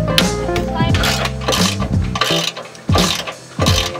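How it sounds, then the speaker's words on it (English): A power tool whirs and ratchets in short bursts, loud and close, as bolts come out of a skid plate on a 5th Gen Toyota 4Runner. Brief pauses fall between the bursts. "So I need to remove these bolts right here and right here."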